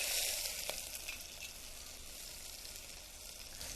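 Chopped chilies hit hot oil in a heated mud pot and sizzle with a steady, soft crackling hiss that fades slightly over a few seconds, with no talking.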